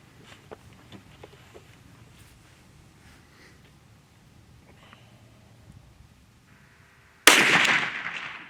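A custom rifle fires once in fog, a single loud sharp crack that decays quickly, following several seconds of quiet small handling noises.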